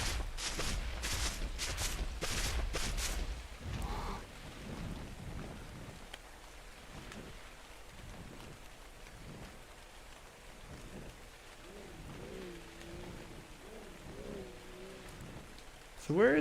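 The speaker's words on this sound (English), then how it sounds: "And we got rain, which means I got free water." Steady rain falls in the survival game ARK on Crystal Isles, a constant hiss under faint thunder-like rumble, with a loud burst of rain or splashing at the start and a voice talking over it.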